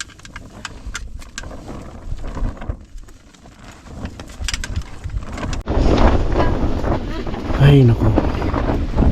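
Cold wind on Mount Olis buffets a microphone outdoors, with gusty roaring that strengthens partway through, while people talk briefly nearby.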